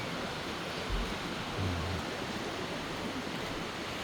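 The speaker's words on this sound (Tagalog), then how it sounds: "Narinig nyo ng agos ng tubig" The stream at Taytay Falls rushes along, a steady broadband wash of flowing water that stays constant and fairly loud, with a brief low thump partway through and no voices.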